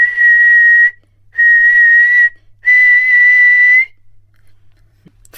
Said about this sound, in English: she got into a terrible rage, and blew 3 times upon her silver whistle